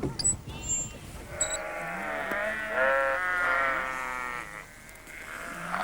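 Sheep bleat repeatedly nearby, overlapping wavering calls from several animals, fairly loud against a faint outdoor background.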